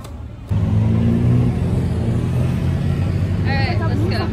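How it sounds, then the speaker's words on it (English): A tuk-tuk engine starts up abruptly and keeps a loud, rattling drone while the vehicle rides through Bangkok, heading from the Grand Palace toward Wat Pho. A voice talks briefly near the end. "So we decided to take a tuk-tuk to get from the Grand Palace to Wat Pho."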